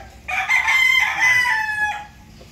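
A Tornado bullstag gamefowl with a short, bent leg crows once, loud and near, a single drawn-out strained cock-a-doodle-doo lasting under two seconds, with quiet farmyard background.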